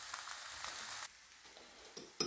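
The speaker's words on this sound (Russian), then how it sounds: "Грибы белые с обжаренным луком переместились в нашу сковородочку. Чуть-чуть поджариваются." Porcini mushrooms with fried onion sizzle in a pan, a steady crackling hiss that drops quieter midway, followed by a couple of sharp clinks near the end.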